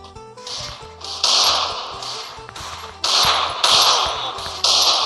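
Gunfire in a video game rings out in sharp repeated bursts and single cracks over a low tonal background hum, fairly loud and close.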